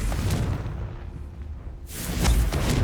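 A Confringo fire spell explosion in the video game Hogwarts Legacy, a rumbling boom that fades to a low hiss and then swells again into a second fiery burst.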